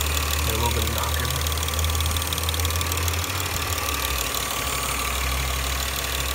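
A car engine runs steadily at idle with a faint, rhythmic knocking tapping through its low rumble, continuous and fairly close throughout.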